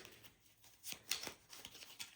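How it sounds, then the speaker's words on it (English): A deck of cards being shuffled for a board game, a soft riffling flutter with a few crisp snaps, close and quiet, with nobody talking. "So let's shuffle."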